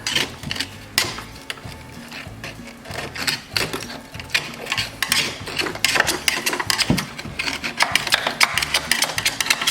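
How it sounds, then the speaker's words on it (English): A chisel scrapes and chips caked debris out of a fertilizer spreader, giving steady close metallic tapping and rasping with busy irregular clatter and no talking. "Let's chisel all this out."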